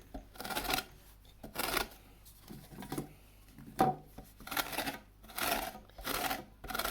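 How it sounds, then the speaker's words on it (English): An orange is grated for zest in short, rhythmic rasping strokes, about a dozen close scrapes separated by brief pauses, with a louder knock partway through. "so I'm just going to grate the orange."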